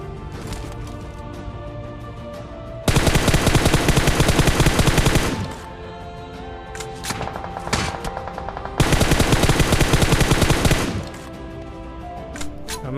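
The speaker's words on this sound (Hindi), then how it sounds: "पीछे ब्रिज से फायर आता है" Automatic gunfire in a battle royale video game, coming from a bridge behind the player: two loud sustained bursts of rapid shots, each about two to three seconds long, with scattered single shots between them over steady game ambience.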